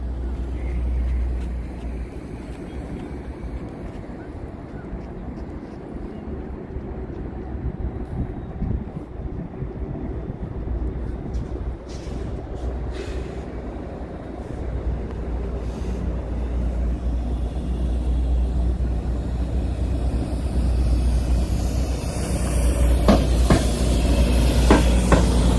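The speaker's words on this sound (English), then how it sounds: "And here comes another EXO train." An EXO commuter train on the Mascouche line, running a detour, rumbles past in a continuous low roar that builds toward the end, with higher rattling and squealing as it draws close.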